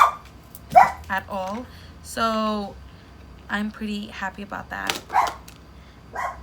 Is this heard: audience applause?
no